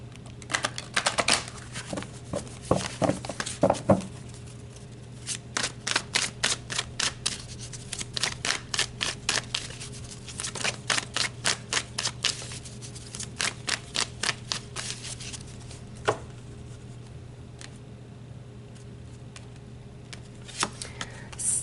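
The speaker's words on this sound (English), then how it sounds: "All right, so let's pull you some more cards." Tarot cards are shuffled in rapid bursts of crisp riffling and flicking, close and fairly quiet, with short pauses between runs and almost no talking.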